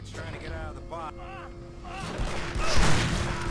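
Loud gunfire bursts from Aliens vs Predator 2 ring out over music and a talking voice, building to a heavy blast near the end.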